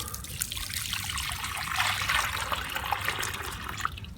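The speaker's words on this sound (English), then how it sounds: "I'm going to show you how I'll be adding water" Water poured into a freshly made concrete succulent bowl, a steady close trickle and splash that rises briefly midway.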